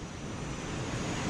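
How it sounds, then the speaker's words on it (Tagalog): A strong wind roars in a constant rushing gust, buffeting the microphone with no voices. "Lumalakas ang hangin."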